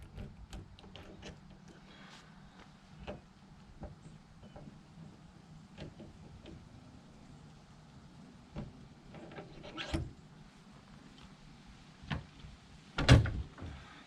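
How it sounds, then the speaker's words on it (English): A key works the lock on the rear door of a converted school bus, with scattered small metallic clicks and rattles, then a louder clunk near the end as the door opens. "And open my back door up."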